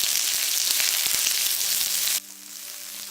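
Onion stirred and fried with garlic in a pan for veg Manchurian: loud continuous sizzling with a few scraping stirs, then the hiss drops abruptly to a quieter simmer near the end, no voices.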